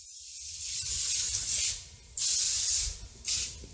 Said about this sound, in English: I am going to spray my pan down with a bit of oil